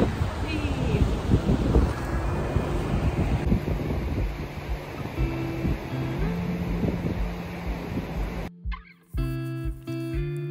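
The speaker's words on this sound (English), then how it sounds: "Especially when it's exceptionally windy and very cold." Strong wind roars steadily across the microphone on a beach with broadband rushing noise, a low steady hum joining partway through before the gusts briefly drop out near the end.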